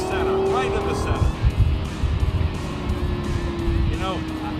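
A Lexus LFA Spyder driven hard on a race track, its engine screaming loud and close with sharp rising and falling revs, a sustained high-pitched howl and bursts of gear changes through the short stretch.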